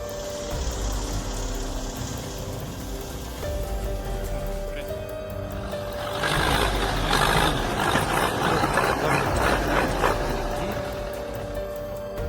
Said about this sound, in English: Pulling stumps with a tractor?